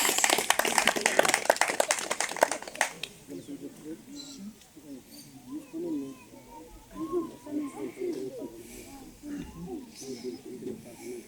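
A crowd at the patron saint festival for the Niño Jesús de Ccarirac breaks into dense, loud applause for about three seconds, then it stops and a voice and other people's talk continue over faint background noise.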